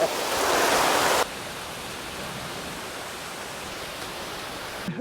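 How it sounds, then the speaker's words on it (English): A waterfall tucked behind a small rock cliff rushes with a constant broadband hiss, loud at first and then settling into a softer, steady roar. "the waterfall is right here, just right around this little rock cliff"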